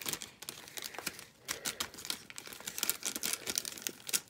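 Plastic garbage bag being pulled open after a Ziploc seal is cut off the top, nearby crinkly rustling and crackling in quick irregular bursts, no talking.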